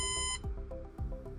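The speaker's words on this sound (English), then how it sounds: "The NAS starts beeping to alert you that it's in a degraded state." Rapid electronic beeping from a NAS signalling a degraded state, a sharp high-pitched alert tone repeating in quick bursts, with a few dull clunks underneath.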